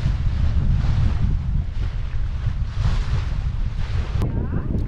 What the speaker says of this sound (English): but even with all this wind, we were still doing about 6 knots